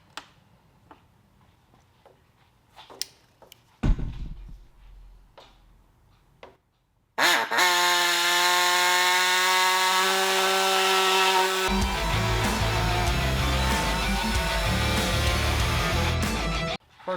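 A 2024 Harley-Davidson Street Glide fairing is cut with a power tool. Faint ticks and taps come first, then a loud, steady, high-pitched whine runs for about ten seconds and drops to a rougher, lower grinding near the end.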